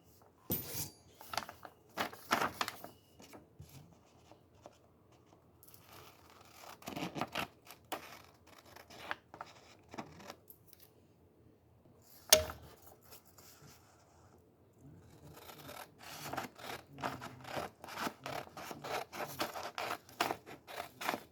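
Scissors cut out the shape of a homemade megaphone in repeated crisp snips and scrapes. The cutting comes in bursts with pauses and a single louder knock, close and fairly quiet, with no speech.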